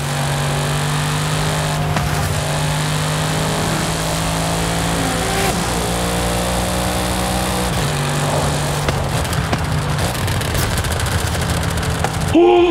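Dodge Viper engine in Forza Horizon 5 revving loud and continuously, with sharp crackling pops and bangs rattling over the drone as the pitch shifts and drops.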